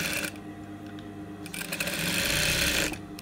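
A sewing machine stitching repeatedly over folded hair to make weft hair extensions, running in short bursts of rapid mechanical whirring with brief pauses, close and clear.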